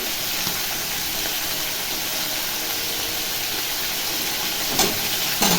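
Spices crackle and sizzle steadily in a hot tempering pan while a vegetable curry cooks, a loud continuous hiss broken by a couple of brief clattering bumps near the end.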